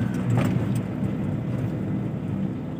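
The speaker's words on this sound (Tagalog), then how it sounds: "Exhaust brake." A vehicle descends a steep road in low gear with its exhaust brake on, giving a steady, low, loud rumble that stays close throughout.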